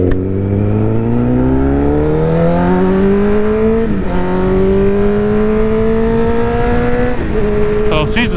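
A 1000cc motorcycle engine revs loudly and climbs in pitch as it accelerates. Two clear gear shifts break the rising whine, close and powerful throughout.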